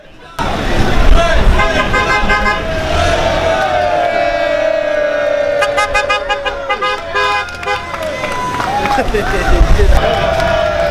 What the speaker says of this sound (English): Some cars even joined in by honking their horns in approval as they passed.